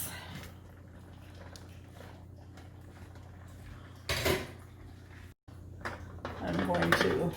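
Glass jars of canned tomatoes clink and knock against each other as they are lifted from a boiling water bath, with splashing water, a brief louder clatter midway and more rattling toward the end, close by.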